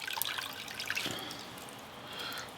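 Water dripping and trickling from grated carrots squeezed hard by hand after soaking in a bowl of water, a close, soft splashing and dribbling that runs steadily throughout with no talk.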